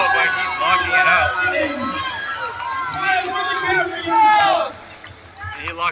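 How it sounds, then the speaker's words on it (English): A crowd at a USA Powerlifting Masters meet cheers and shouts for a lifter, a loud continuous mass of overlapping voices swelling and falling, with an announcer talking over it. "Everyone is cheering and clapping for him."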